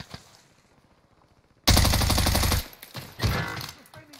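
Loud rapid automatic gunfire from a video game bursts in suddenly after near silence, a dense rattling volley of about a second followed by a shorter second burst.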